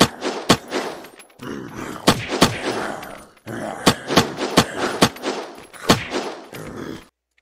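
Semi-automatic rifle fire in the video game Unturned, an AR-15-style airdrop weapon: about a dozen sharp, loud single shots in an irregular paced rhythm, with someone talking underneath.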